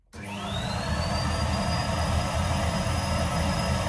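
A Numatic Hetty limited edition vacuum cleaner switches on and runs on hard flooring, rising quickly to a steady loud motor whine with a high tone that settles and holds.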